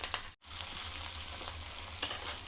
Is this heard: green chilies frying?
yes